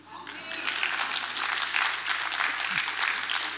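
Church congregation clapping during an Armenian sermon, a steady dense patter of many hands sustained throughout, fairly close and even in loudness, with a faint voice briefly audible underneath.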